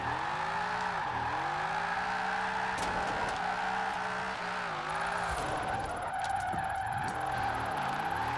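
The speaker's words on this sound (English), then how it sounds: "A bit of a clutch kick." A Holden car in Forza Horizon 4 revs hard as a clutch kick sends its tires squealing, the engine pitch dipping and surging repeatedly under a sustained, loud screech.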